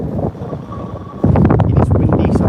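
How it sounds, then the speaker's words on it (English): Wind gusting across a microphone at Birmingham airport, a loud broadband roar that strengthens sharply halfway through, with no clear voices. "It is windy"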